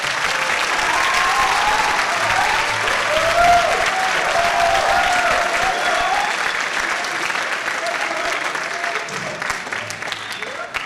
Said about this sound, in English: Let's give all of our seniors a round of applause.